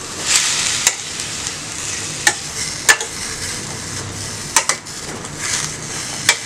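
Eggplant frying in a pan for brinjal chutney, a loud continuous sizzle punctuated by sharp spatula knocks against the pan, no one talking.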